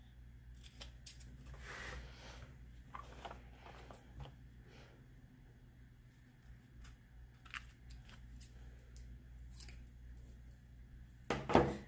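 Scissors snip through excess paper on a business planner page in a few quick, close, crisp cuts, with soft paper handling between them and a louder rustle at the end.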